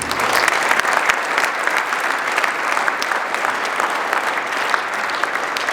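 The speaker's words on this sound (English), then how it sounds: "Please give them another round of applause." Sustained applause from an audience at a college speech day, dense and even, with many hands clapping at once and no talk over it.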